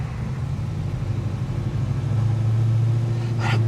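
An LS3-powered 1967 Chevelle cruises along a country side road, a steady low engine rumble from inside the car that swells slightly toward the end, with no talking.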